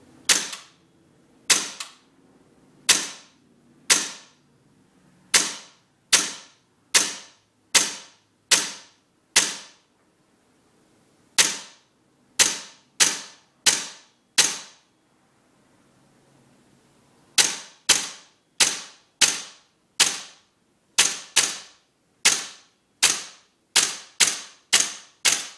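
A Viper Tech CO2 airsoft pistol with an EB CO2 magazine fires semi-auto outdoors near trees, about thirty sharp, loud cracks in irregular clusters separated by short pauses, with no talking.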